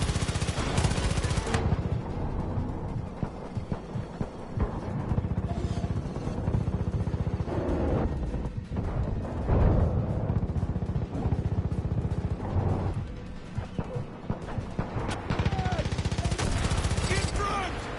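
Enemy gunfire rattles through a Far Cry 5 firefight, dense bursts of automatic rifle and machine-gun shots rolling almost continuously, loud and close, with occasional shouted voices in between.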